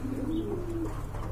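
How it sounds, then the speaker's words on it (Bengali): A pair of Koka pigeons coos in a close, steady, rolling low call that holds across the whole stretch over a constant background hum, with no talking. "এক জোড়া কোকা কবুতর দেখতে পাচ্ছেন, চমৎকার ডাক মাশাআল্লাহ খুবই সুন্দর"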